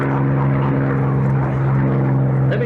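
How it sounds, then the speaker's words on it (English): Propeller-driven warbird engine roar from a P-51D Thunderbird racing at the Reno Air Races, a steady, loud, continuous drone with a deep throbbing tone throughout, no talk over it. "Lefty Gardner in a P-51D Thunderbird."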